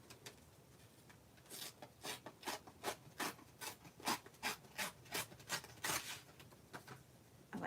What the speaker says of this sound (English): I think I'm going to tear it.